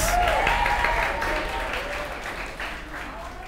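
A church congregation applauds during a Sunday worship service, a steady wash of clapping that fades slightly over a few seconds, with no clear speech on top.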